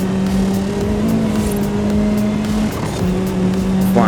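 A car drifting down a mountain touge road in the racing video game Forza Horizon 5, with a steady engine drone and sustained tire squeal that briefly dips, then resumes, loud and close without talk.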